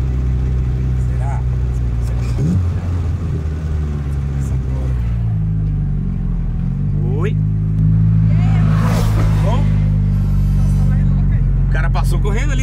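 A car passing by fast on a road, a loud engine rumble that swells and recedes over several seconds near the microphone, with people talking throughout.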